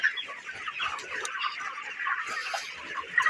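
Broiler chickens cluck and chatter continuously on a poultry farm, a dense flock sound heard fairly close with overlapping calls and no talking.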